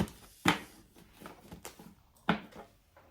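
Cards being shuffled quietly, with a couple of sharper riffling bursts and soft handling noise in between.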